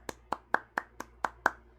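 Seven sharp hand claps in a steady, even rhythm, close and fairly quiet, with no talking.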